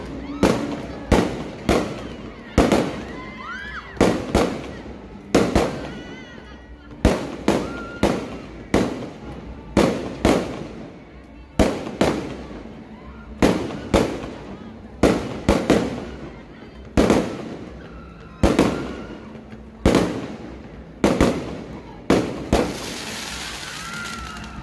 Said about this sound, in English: Natin ang Grand Rally Fireworks BBM Duterte Binan,